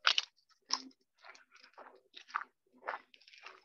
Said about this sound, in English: Sounds like somebody's chewing on something.